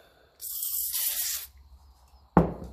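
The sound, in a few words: aerosol spray being applied to engine part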